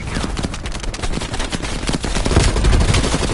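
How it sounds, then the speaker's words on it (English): A heavy machine gun in the Black Ops Cold War campaign fires in a loud, close, sustained burst of rapid shots with booming low impacts building toward the end. "Heavy MG on the red."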